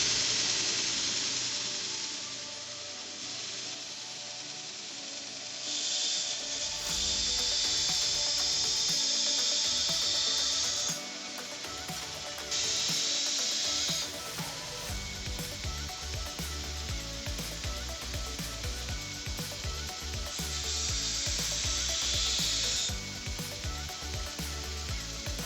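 A belt grinder with a 120 grit belt grinds a steel file in several bursts of harsh, hissing abrasion, with the motor whirring steadily between passes.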